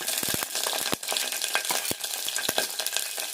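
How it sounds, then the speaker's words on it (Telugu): Onions and spices sizzling and frying in hot oil for potato biryani, with a steady broadband hiss broken by sharp stirring clinks and scrapes of a utensil against the pan. "ఉల్లిపాయ వేసుకుందాము."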